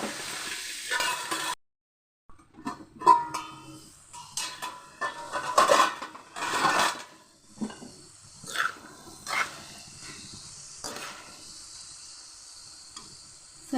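Pieces of bean curry stirred in a pan, irregular scrapes and clinks of a spoon against metal with faint sizzling, broken by a short silence near the start.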